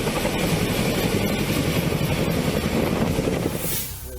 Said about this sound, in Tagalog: Kaya ang mga otoridad gumamit na ng helicopter para magbagsak ng ayuda sa mga apektadong